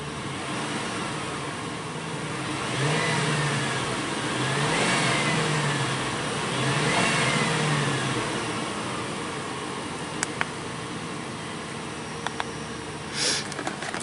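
A Lincoln Town Car with fuel system faults runs steadily, a low engine hum with three gentle rises in revs, then a few sharp clicks and knocks near the end, with no voices.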